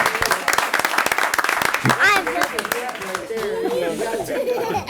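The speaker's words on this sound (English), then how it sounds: "You get an applause for that" A small group at a school board of education meeting gives a brief round of clapping mixed with laughter and chatter, as people talk and respond close by over it.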